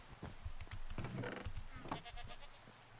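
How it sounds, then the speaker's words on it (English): A goat bleats in a modded Minecraft survival game, a few short game-sound cries over a light background of other game effects, with no talk. "Oh, the goat."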